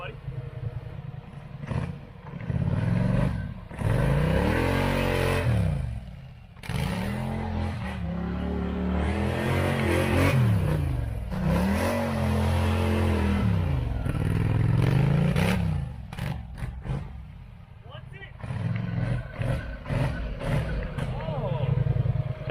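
Engine of a used 2013 Polaris Scrambler ATV with all-wheel drive engaged, revving up and down in repeated loud surges close by, with clattering and people talking over it.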